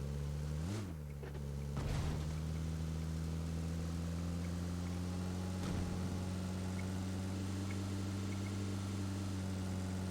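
Car engine in the PUBG Mobile video game running at a steady drone, with a couple of brief pitch swells near the start, then a continuous hum throughout.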